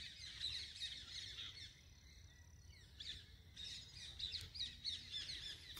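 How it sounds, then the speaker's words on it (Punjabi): Birds chirping and calling beside a canal with clear green water near a bridge, a steady chorus of bright tweets with occasional louder squawks, moderately close over faint outdoor background noise. "ਪੰਛੀਆਂ ਦੀਆਂ ਆਵਾਜ਼ਾਂ"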